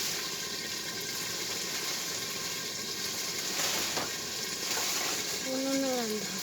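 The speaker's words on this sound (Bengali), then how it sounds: "উনুনে রান্না হচ্ছে, উনুনে।" Food frying on a clay stove, a steady broad sizzle carrying on throughout at moderate level, with faint clinks and a brief tonal squeak near the end.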